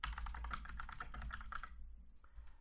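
Typing on a computer keyboard into a search bar: a quick run of close, crisp key clicks, then a few isolated taps as it stops, no voices.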